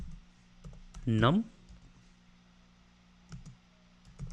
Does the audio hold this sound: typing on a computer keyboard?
yes